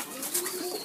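Domestic pigeons kept in a home loft coo softly in a low, rolling rhythm, close by and alone with no talk.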